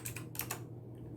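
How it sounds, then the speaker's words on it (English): Fast typing on a computer keyboard while entering a command-prompt command, a short quiet run of several crisp key clicks close by, stopping after about half a second. "type cmd and then open it run it as administrator, and then type adb devices"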